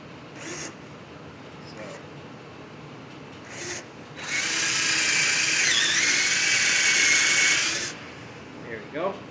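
A power drill with a dulling bit whines steadily into wood for several seconds, loud and close, after a few short bursts, then stops; a faint squeak follows.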